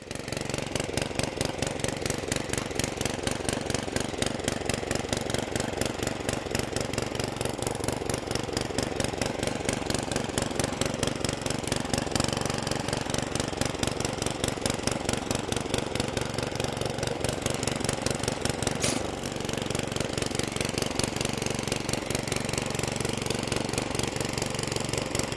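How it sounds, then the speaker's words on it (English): Garden tiller engine running steadily while tilling a peanut bed, a loud close rhythmic chugging that holds an even pace throughout with no talking. "Now let's get this tiller fired up and get it tilled in."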